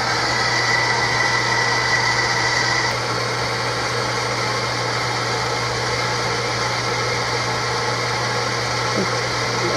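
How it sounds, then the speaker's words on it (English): A water pump runs steadily to pressurize a home plumbing system, giving a constant close mechanical hum with a slight drop in level partway through and no talk. "Get it pumped up and I'll bring you back in a second when the pumps kick off."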